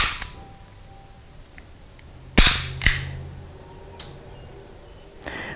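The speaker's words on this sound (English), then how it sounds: "We do have a bolt holdback, slide holdback with release." A SIG P210 pistol's slide release drops the slide: a loud sharp metallic snap followed by a second clack half a second later, with faint clicks of handling before and after in a quiet room.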